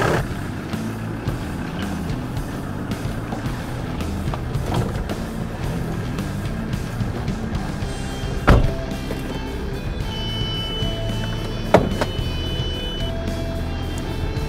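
Renault Espace engine idling while it warms up, a steady low rumble continuing throughout, with two sharp clicks or knocks standing out partway through.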